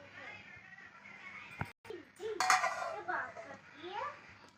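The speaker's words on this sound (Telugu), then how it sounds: "కాసేపు మూత పెట్టుకుందాం" A metal lid clanks down onto a pan of goat liver frying in oil on a stove, giving a couple of sharp clattering knocks amid softer kitchen rattles, with voices talking over it.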